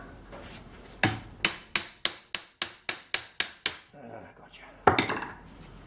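A slide hammer taps a cast part of a vintage McColl repulsion-start electric motor, giving a steady run of about ten sharp metallic knocks, close and evenly spaced, followed by scraping and one heavier final clunk.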